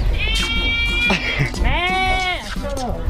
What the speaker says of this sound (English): so the goats are going that way